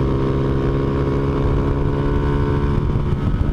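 Honda Fan 125 motorcycle accelerating along a curvy highway, its single-cylinder engine droning loud and steady with strong low harmonics, the engine noise continuous and up close throughout.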